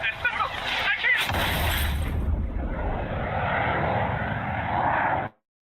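An aircraft engine in the video game Ace Combat 7 roars steadily as a loud, dense jet wash, with a brief crackling burst near the start and a voice talking over it before the sound cuts off abruptly.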